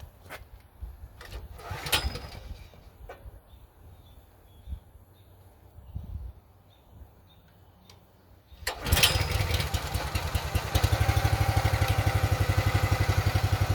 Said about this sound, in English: I had to pull the choke because it's the first start of the day. It starts right up.